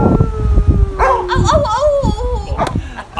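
A crowd of people imitates a big hound dog howl, drawn-out voiced wails rising and falling with yips and barky bursts, loud and close, mixed with some cheering voices.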